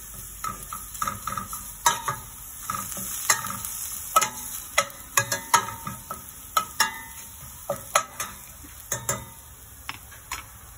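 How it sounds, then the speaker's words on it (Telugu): Food fries in a pan until fragrant, with a faint background sizzle under repeated sharp spatula taps and scrapes at an irregular rhythm, close by and without speech. "ఇది మంచి సువాసన వచ్చే వరకు వేగాలి."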